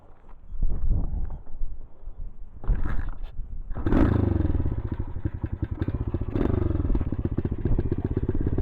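A dirt bike motorcycle engine sputters and blips at first, then revs up to a loud, rough, rapidly pulsing roar that holds close by with rising and falling throttle.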